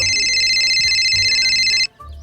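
Phone ringtone for an incoming call, a bright electronic warble of two stacked tones that repeats loudly for about two seconds and then stops abruptly, leaving faint background noise.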